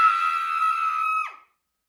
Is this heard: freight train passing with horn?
no